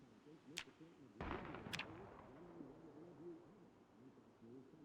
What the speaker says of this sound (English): I think that was a gunshot.